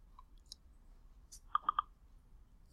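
Computer mouse clicks while signing up for a web account: three quick, crisp clicks in rapid succession stand out against faint room noise, with a couple of fainter ticks before them.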